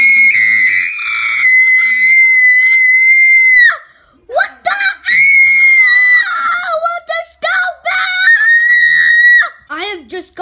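A person screams and shrieks loudly into a headphone microphone, with high, sustained wavering cries in bursts separated by brief pauses, close and harsh.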